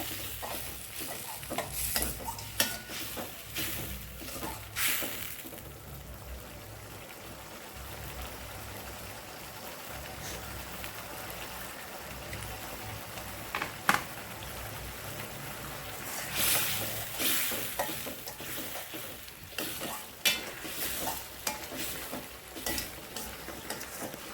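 Tomatoes sizzle steadily in a hot pan while a utensil stirs and scrapes now and then, close by, with no speech.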